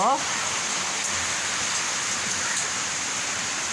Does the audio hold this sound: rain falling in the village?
yes